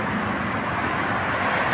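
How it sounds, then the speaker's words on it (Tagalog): An airplane roars overhead, a loud, steady broadband engine rumble that holds without a break and with no voices. "Late lang pero lakas ang ugong. Walang pangalan yung eroplano."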